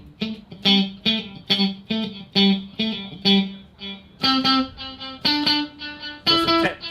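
An electric guitar played through an amplifier with a delay effect and the reverb switched off, a run of distinct plucked notes and chords, each followed by quick repeating echoes, loud and close with no talking.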